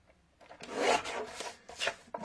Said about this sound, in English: Okay, and file that.